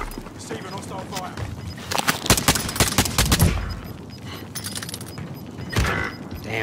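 Gunfire in the Call of Duty Modern Warfare video game, bursts of rapid shots clustered in the middle and a shorter volley near the end, loud over a steady game soundscape with some voice underneath.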